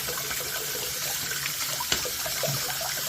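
Water runs steadily from a tap into a sink while a return grill is rinsed, a continuous splashing hiss with one small clatter and no talk.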